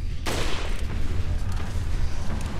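A gun firing in the video game Resident Evil 4: one sharp loud shot near the start, followed by a rumbling tail and background game noise.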